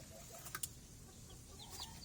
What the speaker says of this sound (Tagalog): Yan ang mga sisiw.